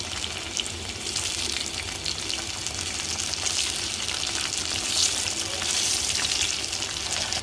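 Steady crackling sizzle of jackfruit flower frying in hot oil, continuous and close, with a bright hiss that swells slightly toward the end.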